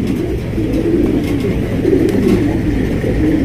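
Lahori pigeons coo close by in steady overlapping low, throaty calls over a continuous low background rumble.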